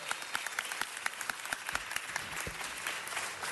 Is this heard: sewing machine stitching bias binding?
no